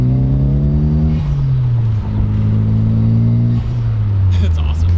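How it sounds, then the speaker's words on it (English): A Mitsubishi Eclipse GSX drives with its air conditioning on, the engine droning loud and close from inside the cabin, its pitch climbing and then dropping at shifts, while people talk over it. "With the AC on, like, this thing is such a pooch. Like, just driving around, you can feel it, like, loading it down quite a bit."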